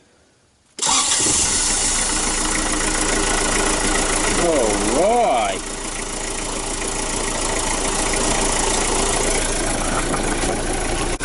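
A car engine cranks and catches abruptly, then settles into a loud, rough, steady idle, with one short shout partway through.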